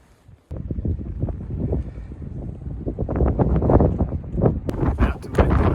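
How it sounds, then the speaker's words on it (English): Strong wind buffets a microphone on an exposed mountain, a loud, rumbling low roar that swells and gusts harder toward the end, with no voices. "Very windy though"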